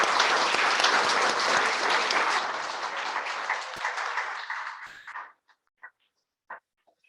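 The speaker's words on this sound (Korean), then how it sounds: "이 장로님들 감사의 박수 한번 드리도록 하겠습니다." A church assembly of a police and corrections mission group gives a full round of applause that stays dense for about five seconds, then thins out and ends with a few last isolated claps before silence.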